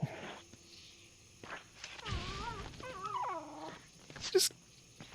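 A dog in The Bard's Tale growls and whimpers with wavering, rising and falling vocal tones over footsteps and game noise, ending in a sharp high clank.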